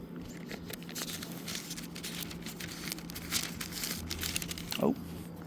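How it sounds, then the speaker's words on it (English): A paper page of a Bible being turned, a brief crinkling rustle near the end over a steady background hum. "can't get the page turned"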